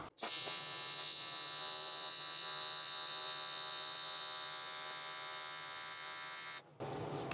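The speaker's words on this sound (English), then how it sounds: "as soon as I ramp those pedals up, the big fans kick on" Cooling fans of a PrimeWeld TIG 325x welder kick on with a loud, steady electrical whir and buzzing hum that holds for several seconds before cutting off abruptly.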